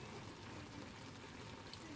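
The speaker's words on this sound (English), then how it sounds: "So I'm just going to pour that in." Water poured from a jug into a cooking pot for jambalaya, a soft continuous splashing trickle at low level throughout.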